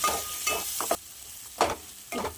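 A spoon scrapes and stirs a chickpea and tripe fry seasoned with chili powder in a hot pan, giving several short, close scraping strokes over a soft sizzle.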